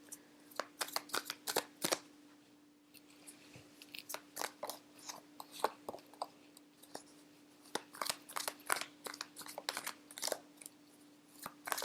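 Tarot cards being shuffled by hand, a long run of crisp flicking and riffling bursts in irregular clusters, close but fairly quiet against a faint steady hum, with no talking.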